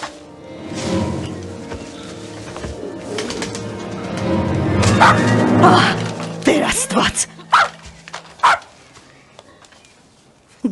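A dog barks sharply several times near the end, after a stretch of muffled voices and birds cooing in the background.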